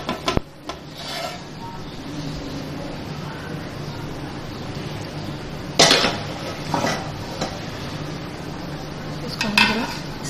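Serving spoon scraping and clattering against a pot as nalli pulao, a mutton-shank rice dish, is lifted out into a serving dish; a few sharp metal clinks stand out over a low, steady kitchen background.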